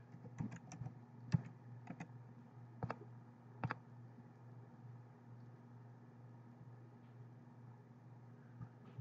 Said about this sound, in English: let me type in my password